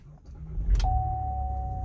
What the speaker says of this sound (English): So I'm just gonna start the car.